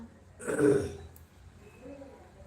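One short, rough cough from someone with a cold, close and fairly loud like a throat being cleared, followed by quiet room noise.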